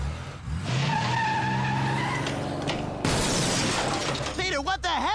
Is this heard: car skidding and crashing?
yes